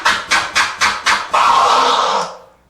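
DJ scratching a vinyl record on a turntable while working the mixer fader, five short chopped bursts followed by one longer sustained scratch, close and alone.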